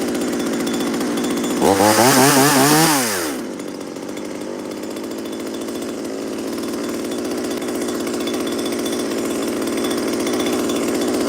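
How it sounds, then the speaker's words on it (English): A chainsaw revs loudly for about two seconds, its pitch climbing and falling, then cuts out, leaving a steady outdoor hum. "They heard the chainsaw."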